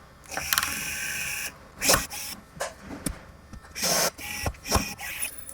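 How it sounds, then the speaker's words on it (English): A rivet tool setting 2 3/16 blind rivets to secure a sensor: loud, close mechanical whirring runs broken by sharp clicks and clunks as each rivet is pulled, in uneven bursts with no speech. "go use our rivet tool to secure the sensor"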